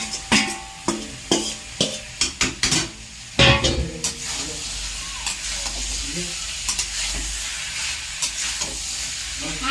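Fried potato and egg are stirred into sizzling masala in a pan, with a run of quick rhythmic scraping strokes, a loud clatter, then a steady frying hiss with lighter stirring.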